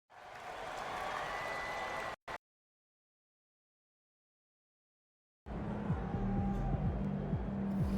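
A simulated arena crowd in the NBA 2K25 basketball game between the Grizzlies and Kings applauds and cheers in a steady wash, broken by several seconds of complete silence before resuming with a low tonal hum underneath.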